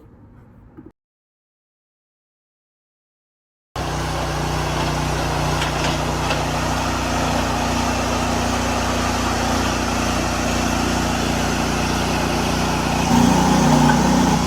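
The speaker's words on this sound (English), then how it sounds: "this machine that he's using right now has the 4-way wedge, so he's re-splitting a lot" A firewood processor re-splits logs on a 4-way wedge, its engine droning steadily and loudly after a brief quiet gap, with a slight swell near the end.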